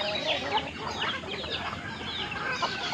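Several young Shamo chickens, about four months old, cluck and chatter continuously close by, with a steady farmyard murmur underneath and no talking.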